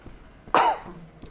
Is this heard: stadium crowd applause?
no